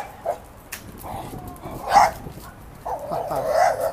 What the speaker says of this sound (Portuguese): Cachorro tá nervoso, hein?